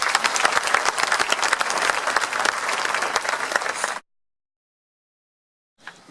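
An audience at a community council's New Year address on Ile de Ré claps loudly for about four seconds, then the sound cuts to silence before a faint burst of clapping returns.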